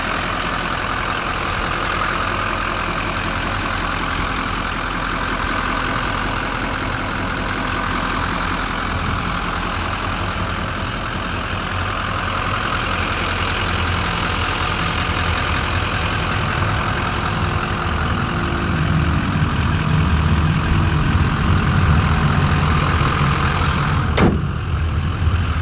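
A 2015 Chevrolet Silverado 2500HD High Country truck engine idles in a steady, close rumble, with the low drone thickening toward the end and a sharp click near the close.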